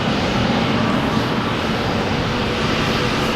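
Airliners taxiing at Boston Logan Airport give a steady, loud, broadband engine roar that fills the whole moment without letup, close and continuous with no talk over it.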